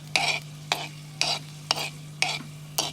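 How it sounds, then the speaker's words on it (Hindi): A home cold-and-cough remedy mixture being stirred in a pan, six sharp, evenly spaced scraping strokes over a steady low hum, close and clear with no talking. "थोड़ा अच्छी तरह इसको हिलाते रहेंगे।"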